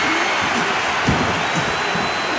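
Virtual arena crowd in the WWE 2K25 wrestling game, a loud dense wash of cheering and applause that holds steady throughout, with a faint voice underneath.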